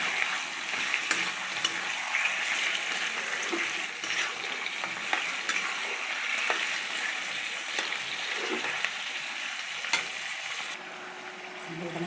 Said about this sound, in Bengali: ধুয়ে রাখা মাংসগুলো দিয়ে দিলাম। একটু তেলের সঙ্গে হালকা করে ভেজে নেব।